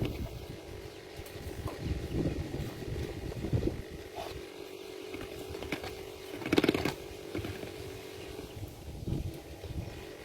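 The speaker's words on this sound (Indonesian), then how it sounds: "Di sini anginnya kencang sekali." Strong wind blows across a microphone outdoors in a low, gusty rumble with uneven bursts, alongside scattered knocks and rustles, and no clear speech.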